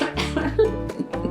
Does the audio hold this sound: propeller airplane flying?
no